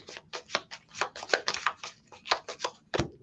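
Board game operations cards being shuffled by hand, a quick series of crisp riffling and sliding bursts at close range, with no talk.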